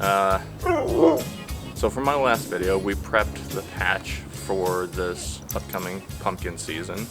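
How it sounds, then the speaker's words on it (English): A dog named Bo yips and barks repeatedly in the background of a garden, the sharp calls scattered through the clip beneath someone speaking in the foreground. "That's my dog Bo barking in the background."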